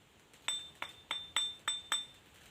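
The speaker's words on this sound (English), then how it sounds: "ring the stone" A bench grinder's abrasive stone is tapped to ring-test it for defects, giving six sharp, clear ringing taps spaced roughly a third of a second apart, each with a bright sustained tone, close and alone in a quiet room.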